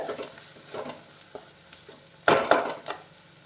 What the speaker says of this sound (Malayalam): നമ്മുടെ സവാള നല്ല രീതിയിൽ വഴറ്റിയിട്ടുണ്ട്. ഇപ്പോൾ ഫ്ലെയിം കുറച്ച് വെച്ചിട്ട് കുറച്ച് പൊടികളൊക്കെ ചേർക്കാനുണ്ട്.